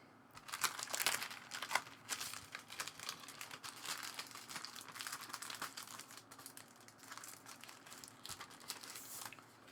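Scissors snip through a sticky protective layer on the worn surface of a Wacom Intuos4 tablet, a close, dense run of crinkling and tearing with sharp crackles early on, alone without talk.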